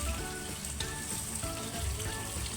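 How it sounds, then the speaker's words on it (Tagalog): Mussels grill in melted butter, giving a close, steady sizzle and crackle that runs unbroken throughout, with faint stirring sounds and no voices. "ihaw na may mantikilya"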